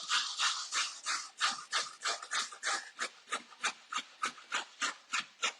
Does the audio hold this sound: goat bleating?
no